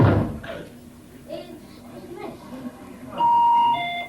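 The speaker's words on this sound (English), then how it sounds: "best doorbell in the world" A musical electronic doorbell plays a tune as a tinkling melody of bright tones, ending in a louder sustained chime near the end.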